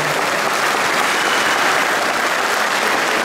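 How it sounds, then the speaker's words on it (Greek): Dense, steady applause fills a hall at a sports club's award ceremony as an honorary plaque goes to a deputy mayor. The clapping is loud and even throughout, with no voices over it. "Ένα χειροκρότημα παρακαλώ."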